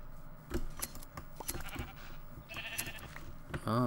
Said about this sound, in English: Okay, there's sheep.